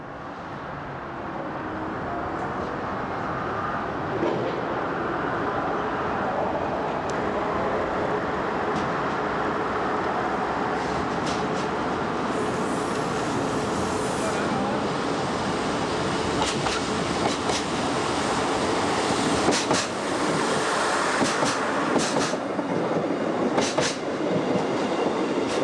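A DB class 628 diesel railcar pulls out of Berlin Zoologischer Garten station, then without overhead wires, its engine drone and rolling wheels loud and steady throughout with occasional rail clicks and squeals.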